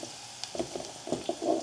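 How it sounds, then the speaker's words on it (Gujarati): Eggplant pieces go into a hot pan for a Gujarati methi-ringan dish, setting off a faint crackling fry with a few soft clatters and a louder sizzling burst toward the end. "અને હવે રીંગણા નાખી દઈએ."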